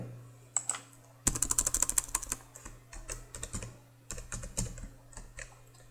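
Close, rapid typing on a computer keyboard while writing Java code, bursts of clicking keystrokes with short pauses between runs over a steady low hum.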